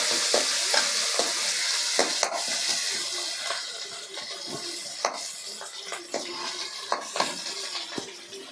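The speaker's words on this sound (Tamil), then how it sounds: "இந்த இலை, பூ, இப்படி ஏலக்காய், அன்னாச்சி பூ, இது நட்சத்திர பூ, கிராம்பு எல்லாம் போட்டு அதை ஒரு கிண்டிக்கிறோம்" Bay leaf, cardamom, star anise and cloves sizzle and crackle in hot oil in a pan for mushroom curry, stirred with sharp scraping clicks and pops over a steady frying hiss.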